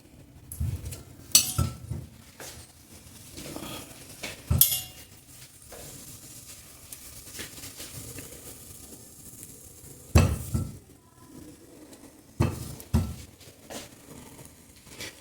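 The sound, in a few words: sweet potato pieces placed in pressure cooker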